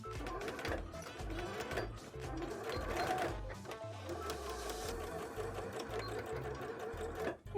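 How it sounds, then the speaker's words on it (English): A sewing machine stitches two lines on a bra, with a rapid mechanical chatter running continuously and close up at a steady pace through the whole stretch. "I'm gonna do 2 lines of stitches here."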